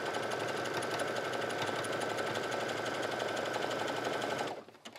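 A sewing machine stitches a casing into leggings fabric, running in a steady, fast mechanical rhythm for several seconds before stopping near the end.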